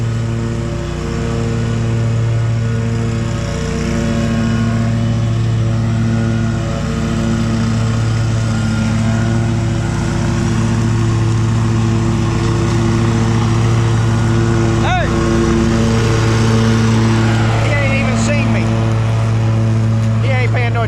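Hustler riding lawn mower cutting grass at a demo day, a steady droning engine hum with constant low tonal rumble running throughout, close and loud, with someone talking over it now and then.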